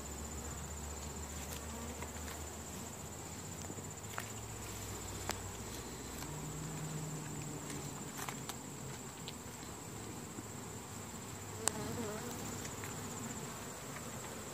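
Honey bees at an open hive frame during goldenrod bloom, a steady dense buzzing hum of many insects close up, continuous and even throughout with occasional small knocks and no talk.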